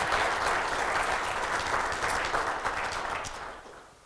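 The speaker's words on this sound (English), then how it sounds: "So please give a round of applause and a warm welcome to Mr." A conference audience at the 3D Basecamp 2014 SketchUp event gives sustained, even applause to welcome a presenter, a steady wash of many clapping hands that slowly tapers off.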